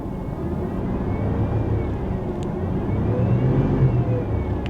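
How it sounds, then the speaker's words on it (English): Idling 1995 Pontiac Bonneville engine given a light rev: a moderate, steady low rumble that swells slightly toward the end, with faint whirring overtones and no talking. "give it a little rev"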